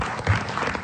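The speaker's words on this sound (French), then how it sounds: "On vous remercie, on vous applaudit, François Pépin." Brief burst of studio audience applause on a French talk show, a short, dense clatter of clapping heard alone.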